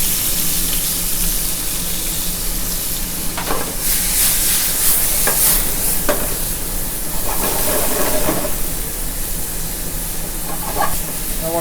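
Kalamata olives, capers and diced Roma tomato sizzle loudly in a hot pan, a constant close hiss with occasional spattering bursts and a few soft stirring scrapes.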